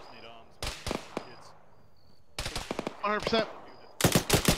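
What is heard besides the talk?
vehicle machine gun fire in a video game (Arma)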